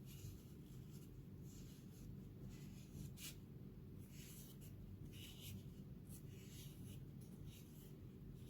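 A black sketch pen scratching over a paper bookmark during decorating, with soft, intermittent strokes faint against a steady background hum.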